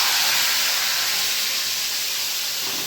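Cumin, dried red chillies and asafoetida sizzling in hot oil for a Gujarati potato dish, a loud, even hiss held close and unbroken for about three seconds.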